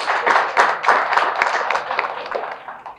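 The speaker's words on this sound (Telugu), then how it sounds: "Give him big claps." A small crowd at a press meet claps for a music director, a brief burst of scattered, close applause that thins out and fades over a few seconds.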